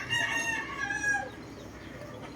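A gamefowl rooster crows nearby while birds are prepared for fighting, one drawn-out call fading to quiet background noise.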